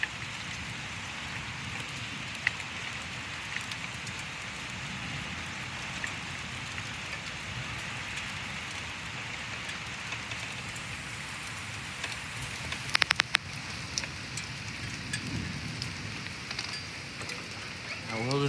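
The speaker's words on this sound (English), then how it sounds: "All this constant thunder we're hearing" Steady, heavy thunderstorm rain with small hail pours continuously with a low rumbling thunder undertone and a few sharper crackles midway.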